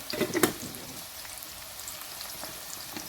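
Mustard seeds frying in hot oil in a karahi while cooking a gobhi dish, a crackling sizzle with sharp popping bursts at first that settles into a faint, steady hiss.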